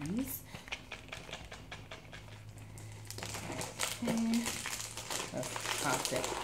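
A paper envelope is crinkled and handled at close range while someone talks over the steady rustling and light crumpling, followed by a tearing, crackly stretch as it is opened.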